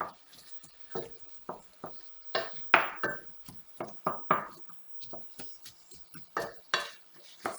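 Cooked lamb meat being stirred in a metal pot for a lamb stew. A spoon clanks and scrapes against the pot in irregular, close strokes with short pauses between them, and there is no talk.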